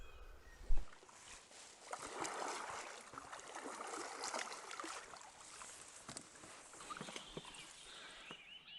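A Story drop-stitch kayak being paddled on calm water just before dawn, with soft, close splashes and drips from the paddle blades repeating in an irregular rhythm, and no voices.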